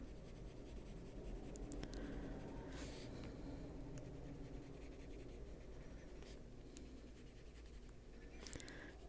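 Soft, steady scratching of colored pencil on paper, close and faint, with occasional small handling clicks, drawing a bird's tail.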